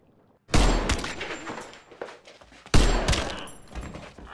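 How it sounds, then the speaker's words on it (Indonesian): Two heavy, booming gunshots from a film scene, about two seconds apart, each followed by a rumbling, echoing decay, loud and close after a moment of silence. "kaget mendengar suara tembakan"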